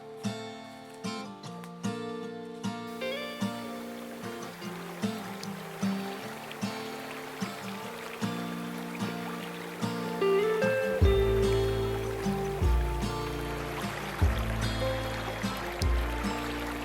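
A small wild brook trout stream flows nearby with a steady gurgle, under faint rhythmic taps and some musical tones, growing fuller and louder toward the end.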